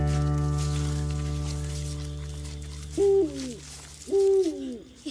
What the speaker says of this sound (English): You hear that owl?